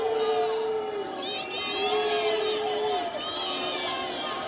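Climate activists at a Trevi Fountain protest scream and shout together, a crowd of sustained, high-pitched cries and yells that carries on continuously at moderate distance.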